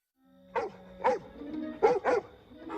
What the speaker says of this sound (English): the barking pony near the end of the episode really stole a lot of the spotlight